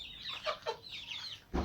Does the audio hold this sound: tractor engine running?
no